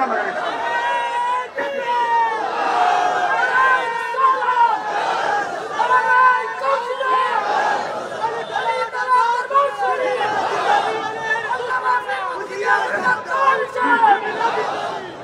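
A large crowd at a Ramadan religious gathering in Barura, Khoshbash, shouts slogans together, a sustained mass of many voices rising and falling in waves for about fifteen seconds.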